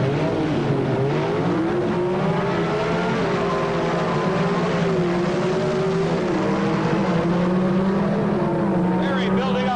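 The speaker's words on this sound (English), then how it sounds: "only a 288 cubic inch small block Chevrolet under the hood of this big Camaro." Two drag racing cars roar at full throttle down the strip, a small-block Chevrolet Camaro with a 288 cubic inch engine against a Chevy II with a six-cylinder Chevrolet, a loud sustained engine wail.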